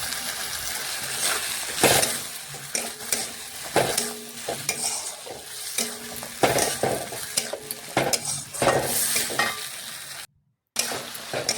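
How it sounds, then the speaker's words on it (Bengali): Chopped tomato stirred into frying masala in a pan, with a spatula scraping and knocking against the metal in an irregular rhythm over a constant sizzle, close and fairly loud, with a short silent gap near the end. "এটাও ভালোভাবে নাড়াচাড়া করে মিশিয়ে নেব"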